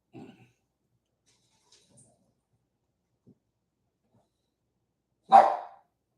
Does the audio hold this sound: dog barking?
yes